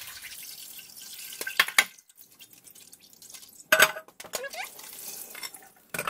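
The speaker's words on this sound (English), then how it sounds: "we're going to just rinse this with vinegar water" Raw crabs are rinsed with vinegar water in a kitchen bowl, with splashing bursts, drips and clattering shell-and-dish knocks separated by quiet gaps.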